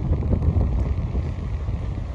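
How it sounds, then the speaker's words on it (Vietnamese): Strong winter wind outdoors at a commercial aircraft museum buffets the microphone, giving continuous low rumbling gusts that swell and dip without pause. "gió bên ngoài đang rất là mạnh luôn."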